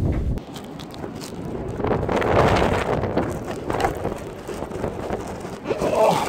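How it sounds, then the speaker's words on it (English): Strong wind buffets the microphone in rumbling gusts, swelling and easing over several seconds, loud and close. "that is so windy out there today"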